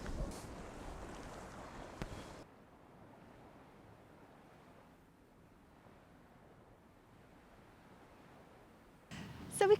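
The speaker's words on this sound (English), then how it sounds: "What do you think might happen to these nurdles if I blow on them?" A person blows a strong gust across small microplastic nurdles on a beach, a steady breathy rush of wind noise lasting several seconds between louder bursts at the start and end.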